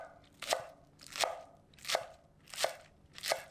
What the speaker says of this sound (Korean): 쪽파 5뿌리를 준비하고 화면처럼 썰어주세요